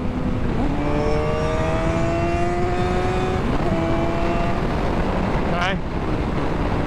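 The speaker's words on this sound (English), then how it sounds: "And if I was downshifting into third, right, it would look something like this." A motorcycle engine drops into third gear, its tone stepping through rising and falling pitches under loud wind rush, with a quick rev blip near the end.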